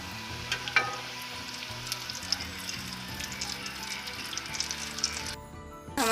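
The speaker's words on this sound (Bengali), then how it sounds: "এভাবেই ভাজবেন, খুব অল্প আঁচ দিয়ে ভাজবেন" Onions frying in oil over very low heat for chili chicken, a steady close sizzle with occasional stirring scrapes and light pops, no talking.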